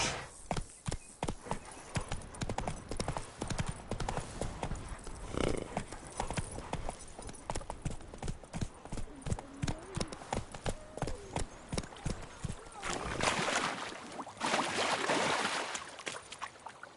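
Roach, a horse in the Witcher 3 video game, galloping with a fast, steady clip-clop of hooves throughout, loud and close, with faint voices and game ambience underneath.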